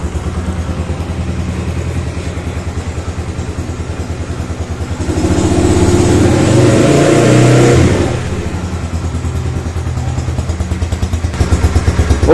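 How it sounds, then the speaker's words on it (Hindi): A 2022 Yamaha YBR 125G motorcycle idles to warm up, its engine putting out a steady close-up thrum that swells into a louder rev midway before settling back to idle. "5-10 सेकंड जब बाइक स्टार्ट रहे, थोड़ा सा गर्म हो जाए"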